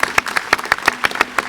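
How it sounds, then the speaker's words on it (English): An audience applauds at an airport event for a new Alaska Airlines route, with steady, dense clapping, individual claps standing out in a quick irregular rhythm. "they do deserve a round of applause"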